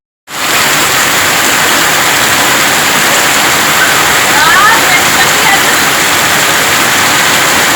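Heavy rain in Narkatiaganj, Bihar, makes a loud, dense, continuous hiss that begins abruptly and holds steady without a break.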